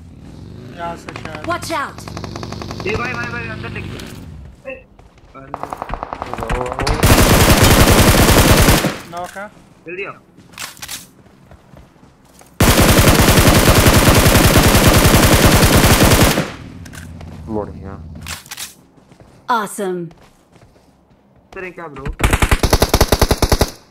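Automatic gunfire in the mobile battle royale game BGMI, with several long loud bursts of rapid shots separated by quieter gaps where a voice talks over game sounds.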